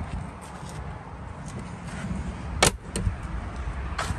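The rear of a 2024 Mercedes G-Wagon being unlocked and opened: scattered soft clicks and rustles, then a sharp latch clack and a couple of fainter mechanical thuds, close by in a quiet setting.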